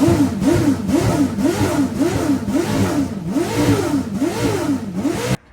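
A small-block Chevy V8 in a used NASCAR race car revs up and down repeatedly in a steady rhythmic cycle, loud and close, with a rough mechanical roar throughout.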